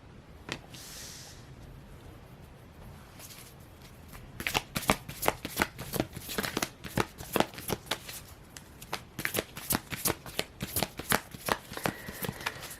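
Tarot cards are shuffled repeatedly, a quiet rustle at first and then a long run of crisp, rapid riffling snaps close by.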